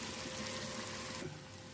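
Water pouring steadily into minced mutton in a cooking pot while preparing qeema chana dal, a continuous close hiss and splash that eases off slightly near the end, with no talking.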